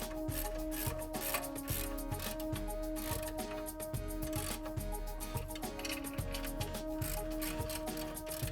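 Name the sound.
ratchet tightening large bolts on Range Rover coil assembly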